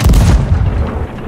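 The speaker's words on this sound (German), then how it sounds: "Ja, da verbraucht er unsere Kanonen." Ship cannons firing in the pirate video game Sea of Thieves, one loud booming blast that rolls out into a rumbling decay.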